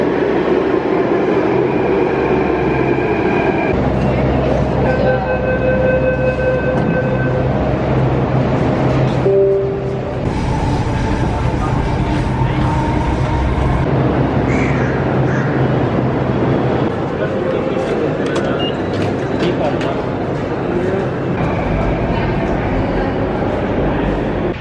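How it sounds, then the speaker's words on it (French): Steady rumble and whir of a Delhi Metro train in motion, heard from inside a carriage, with brief electronic tones and a louder surge partway through. "Je viens de prendre le métro pendant une vingtaine de minutes."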